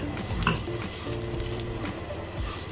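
Batter-coated okra (bhindi) crisping in oil, a close, dense sizzle with crackles and light stirring scrapes throughout the short stretch.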